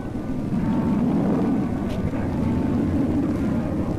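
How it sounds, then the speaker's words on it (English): Bell X-2 rocket-powered supersonic research aircraft landing, a steady, loud, broad roaring rush with wind-like noise that holds constant throughout, no voices. "This is not a jet aircraft landing. It is rocket power, a flying laboratory built for supersonic flight."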